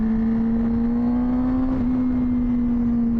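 A 2024 Honda CBR600RR fitted with an MIV Suono slip-on exhaust idles with a steady droning engine tone and faint rumble, even and continuous, heard alone.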